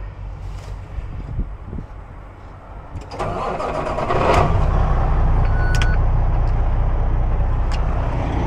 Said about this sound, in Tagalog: I-off pag nagpandar ng truck.